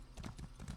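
Quick rhythmic hoofbeats of a horse trotting in the video game Elder Scrolls Online, a brief, faint run of even clip-clops.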